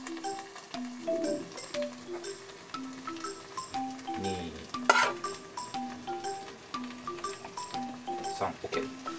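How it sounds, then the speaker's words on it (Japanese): Chicken tossed with curry powder stir-fries in a pan for a spice curry, giving a soft, steady sizzle and occasional stirring clatter beneath quiet tonal background sounds. "で、焦げないように炒めていくと。"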